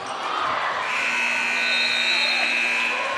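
At a varsity high school basketball game, a steady electronic buzzer sounds to end the quarter, a sustained tone over gym crowd noise.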